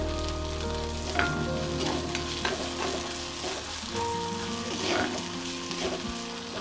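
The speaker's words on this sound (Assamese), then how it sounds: "এইখিনিও মই ভালদৰে ভাজি ল'ম।" Garlic and ginger paste sizzles steadily in a pan over a low kitchen hum, broken by intermittent spatula scrapes and soft clinks as it is stirred, close and moderately loud.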